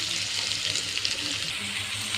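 Thinly sliced onions dropped into hot oil give a steady, even hiss and crackle of frying that runs unbroken throughout, with no voices.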